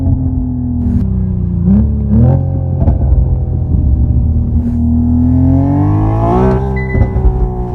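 A Hyundai Ioniq 6 N's synthesized engine note hums deep and loud from inside the cabin, rising and falling in pitch with gear-like steps, with faint pops and crackles scattered through the steady tone.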